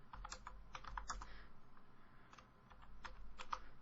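Typing on a computer keyboard while copying notes from a train body work drawing: clusters of quick, light key clicks in irregular bursts, close and moderately quiet over a low room hum, with no voices.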